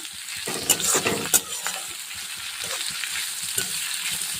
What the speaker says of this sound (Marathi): कांदेसुद्धा छान भाजून घ्यायचे थोडा कलर चेंज झाल्यावर